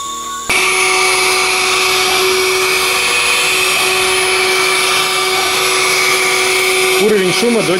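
A Puruikai window-cleaning robot runs on glass with a loud, steady motor whine and suction hiss that switch on abruptly and hold, with a voice briefly heard near the end.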